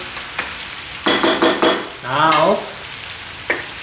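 Beef and lamb searing in a hot pan for curry, with loud bursts of sizzling and frying as the meat is stirred, several sharp clustered crackles followed by a longer hissing swell, close and without talk.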